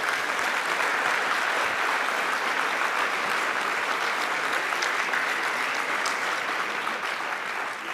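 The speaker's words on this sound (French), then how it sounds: "Vous pouvez l'applaudir, effectivement." An audience at the CNGE 2017 congress applauds to welcome Nicolas Revel, director of the national health insurance, with dense, sustained clapping from a large hall that stays level throughout and fades slightly at the end.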